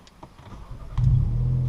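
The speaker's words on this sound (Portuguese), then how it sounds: "Eu vou ligar o polo aqui." A Volkswagen Polo's engine cranks and catches, settling into a loud, steady idle rumble after about a second of starter noise, close by with no talk.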